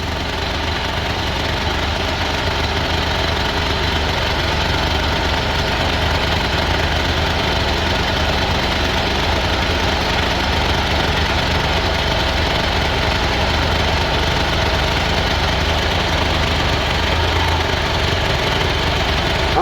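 A generator runs steadily under heavy load while powering a welding machine to charge a dead car battery, its loud continuous engine drone and vibration unbroken throughout.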